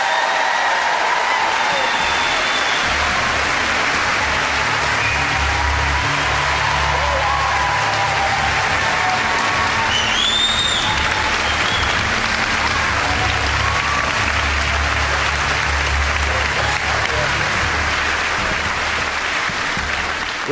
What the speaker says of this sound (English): Please show some appreciation, make some noise for Carl Beattie, Yvette Fielding